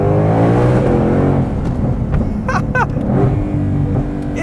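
A Ford Mustang's engine pulls hard under power, its revs rising and falling in a loud, close, throaty drone with a few brief higher chirps over the top.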